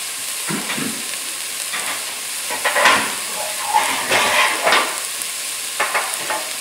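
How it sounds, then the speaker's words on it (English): Metal spoon clanks and scrapes against the side of a pot of black beans with a smoked ham bone over a steady sizzle, with several irregular knocks. "People complain that I hit the side of the pot."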